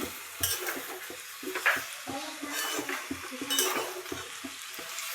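A spatula stirs jackfruit curry with boiled jackfruit and lightly fried potato in a pan, making steady scraping and knocking strokes over a continuous hot-oil sizzle, close up and without talk.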